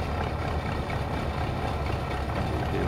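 A Ford 6600 tractor hauling a trailer of cassava up a steep slope near Dầu Tiếng reservoir in Tây Ninh gives a steady low engine drone with a rumbling idle-like throb, continuous and fairly close, with no talk.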